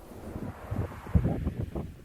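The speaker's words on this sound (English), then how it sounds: "it was still pretty windy" Steady coastal wind buffets the microphone in low gusty rumbles while fishing at Kessingland beach, a continuous blustery roar with no voices.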